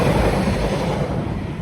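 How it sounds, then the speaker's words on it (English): A train passing close by on a wintry day, a loud, steady rumbling roar of rail wagons rolling past with no break. "Oh, and there's a train."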